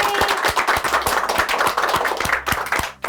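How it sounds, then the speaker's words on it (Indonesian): A studio audience claps together on a talk show as a guest is welcomed, a fairly dense, steady round of applause with regular sharp beats, close and loud, with no voices over it. "Tepuk tangan dulu."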